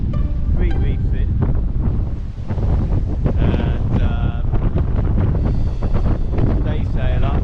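Strong wind of about 30 knots, gusting to 36, roars over an Outremer 52 sailing catamaran running under three reefs offshore, a loud, constant buffeting rush with water noise beneath and a voice speaking briefly.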